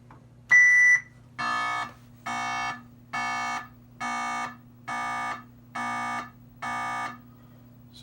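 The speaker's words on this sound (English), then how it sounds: "Okay, the first beep was bad." An Atari Super Breakout arcade board from 1978 beeps during its self-test: one higher tone, then seven lower buzzy beeps evenly spaced about every 0.6 seconds over a faint steady hum.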